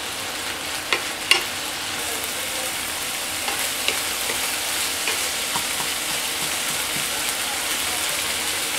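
French fries and minced meat cook together in a pan with a dense, constant sizzle. A couple of sharp clicks from stirring come early, and the frying continues steadily with no voices.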